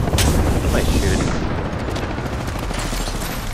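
Dense, continuous gunfire in the video game Apex Legends, loud and sustained with a heavy low rumble throughout.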